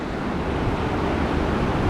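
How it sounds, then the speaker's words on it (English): Cold glacier-fed water of the Parvati river rushes through the mountain valley near Manikaran, a dense, steady roar heard close and loud without pause. "The water that is flowing, this is called as Parvati river"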